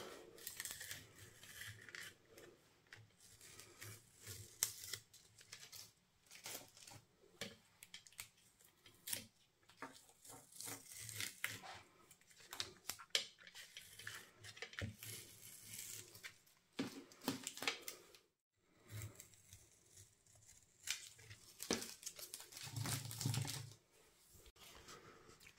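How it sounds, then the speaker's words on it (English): Bits of tape are peeled off a heat-embossed card base at a crafting desk, giving faint, irregular tearing, crinkling and rustling sounds with short pauses. There is no talking. "I'm going to come and just remove the bits of tape."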